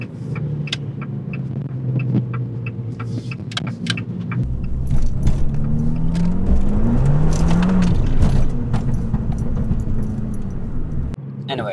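Car interior while driving at steady speed, with a constant low engine and road rumble, small rattles and jingles, and a voice speaking over the noise throughout.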